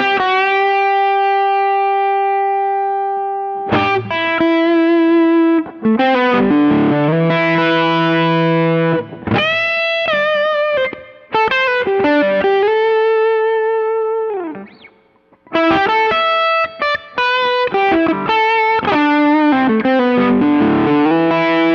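An electric guitar runs through a Zen Drive overdrive pedal with a woolly, dark, saturated tone, playing a sustained chord, then a run of clipped and held melodic notes and bends, loud with no talking.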